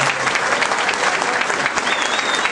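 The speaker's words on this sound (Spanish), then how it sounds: "yo les pido un aplauso a los compañeros" Brief burst of dense, sustained applause from an audience at a PRD party convention gathering, loud and continuous with no speech over it.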